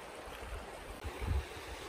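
Mad River flows beside a muddy woodland trail, a steady low broadband rush of moving water with a brief swell of heavier gurgling near the end, no voices.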